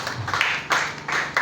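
A church congregation applauding, clapping in short bursts that swell and fade, moderately loud and fairly close.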